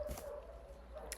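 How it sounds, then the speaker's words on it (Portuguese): A dog barks in the background indoors, a few faint yelps and whimpers, distant and soft beneath a quiet room. "provavelmente vocês estão ouvindo algum latido ao fundo"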